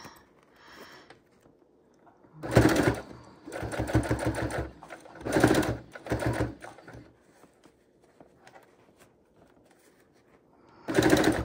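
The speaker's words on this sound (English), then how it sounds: "I want to prove that it can be done on the sewing machine" A sewing machine stitches a scrappy fabric heart pillow in several short bursts of rapid mechanical chattering, separated by quiet pauses, close by.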